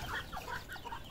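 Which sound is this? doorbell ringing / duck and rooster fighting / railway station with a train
duck and rooster fighting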